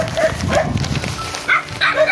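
Several dogs at a house bark in short, loud bursts close by, a few quick yaps spread across the moment amid wind and rain noise.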